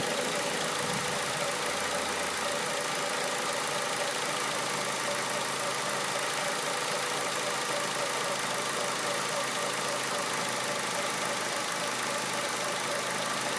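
A 2002 Honda CR-V engine idles at about 1,000 RPM after an engine swap, a steady, even mechanical hum with no speech. It is moderately faint and continues unbroken for the whole stretch.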